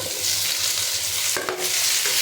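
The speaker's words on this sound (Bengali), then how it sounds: "এখন টমেটো কাঁচামরিচগুলো দিয়ে দিই।" Tomatoes and green chillies tossed into hot oil with fried onion, garlic and dried fish, giving a steady close sizzle with a brief burst of clatter and crackle as they are stirred, no talking.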